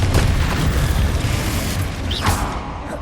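Blast of the Confringo explosive spell in the Hogwarts Legacy video game: a deep, rumbling boom that fills the clip, with a brief whooshing burst near the end, loud and continuous.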